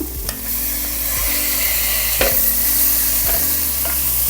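Chopped tomatoes hit a hot pan in a beetroot kurma and sizzle steadily while a spoon scrapes and stirs, with a few sharp clanks of the utensil against the pan over a constant frying hiss.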